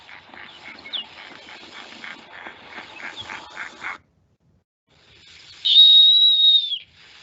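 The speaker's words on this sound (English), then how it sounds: "let's take a quick listen to what we think a snowy owl sounds like." Snowy owl calling with loud, high scream-like peeps: a rapid run of pulsed notes for about four seconds, a short silence, then one long, sustained, piercing whistled cry.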